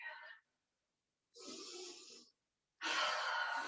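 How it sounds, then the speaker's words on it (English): Deep yoga breaths sound close and clear: a short exhale, then two longer airy inhales or exhales separated by silent pauses, the last one the loudest. "As you take a deep breath here."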